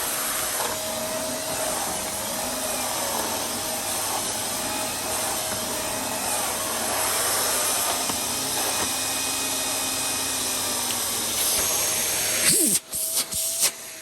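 A Dyson DC54 vacuum cleaner with a short hose runs at a steady, loud whine with a broad rushing hiss, holding close and constant until it cuts out abruptly near the end.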